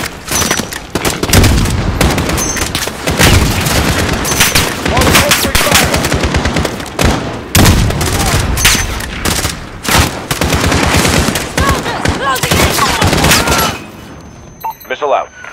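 Dense, loud machine-gun fire and rapid bursts from a Call of Duty Modern Warfare battle, continuous and overlapping, with radio voices talking over the shooting.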